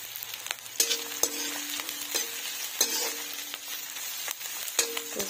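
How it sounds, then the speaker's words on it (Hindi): Soybean chunks frying in a pan while a spoon stirs them, a steady soft sizzle broken by repeated scraping strokes against the pan, heard alone at close range. "कुछ देर तक हम सोयाबीन भी भूजेंगे।"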